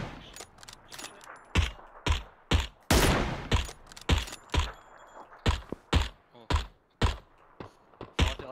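Gunfire in a shooter video game near a bridge: loud, close shots crack out in quick repeated bursts with uneven gaps between them, steady and sustained across the whole stretch.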